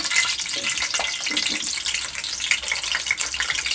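Potatoes and mixed vegetables frying in a pan for veg biryani, a bright continuous sizzle with scraping stir strokes, close and loud, with no talking.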